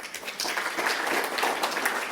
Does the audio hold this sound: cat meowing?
no